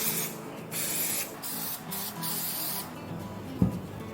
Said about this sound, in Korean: 스프레이를 해주겠습니다.